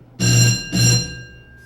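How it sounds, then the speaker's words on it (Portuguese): Two loud rings of a city council chamber bell during a session, each about half a second, the second ringing out and fading slowly. "eu vou acionar a campainha aqui"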